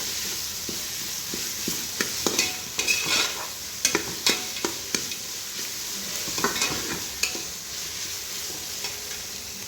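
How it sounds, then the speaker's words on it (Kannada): Onions fry in a pan with a continuous close sizzle, while a utensil scrapes and clinks against the metal in uneven stirring strokes. No one speaks. "ಈರುಳ್ಳಿ ಚೆನ್ನಾಗಿ ಫ್ರೈ ಆಗಿ"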